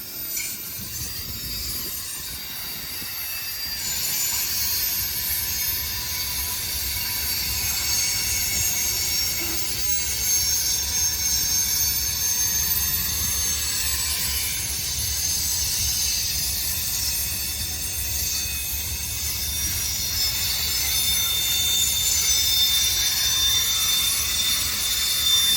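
A CSX freight train rolls past with wheels squealing, a sustained high-pitched metallic screech over a low rumble that swells and holds loud for a long stretch.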